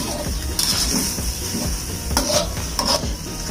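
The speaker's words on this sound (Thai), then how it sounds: "คลุกเคล้าให้เข้ากันผัดหมูให้เข้ากันกับพริกนะคะ" Minced pork and chili stir-fried for pad kra pao, a spatula scraping and tossing in a pan over continuous sizzling, with a few sharper metallic clanks near the end.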